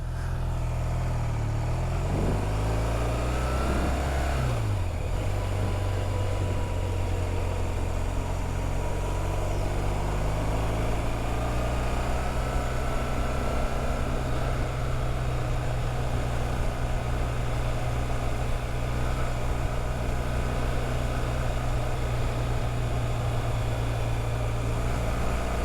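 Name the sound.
motorcycle engine while riding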